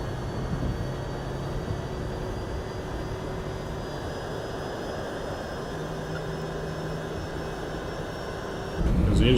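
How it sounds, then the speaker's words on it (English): Steady jet engine drone of an MD-11 airliner in the X-Plane 11 flight simulator, a constant even roar with faint tonal whine, holding level throughout and swelling slightly louder at the very end. "Because the engine sounds I have now,"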